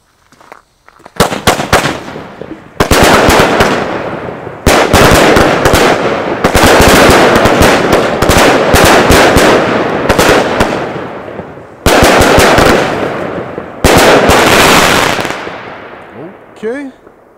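A 32-shot Airborne fireworks cake fires outdoors, loud and close, with rapid cracking bursts in several long volleys. The cake runs for about fifteen seconds and ends in fading crackle.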